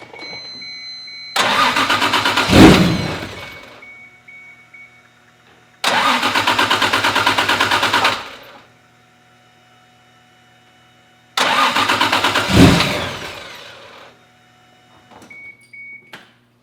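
A Toyota 1JZ engine running six ignition coils cranks three separate times, each attempt catching for about half a second before dying, with quiet pauses between tries and no talking.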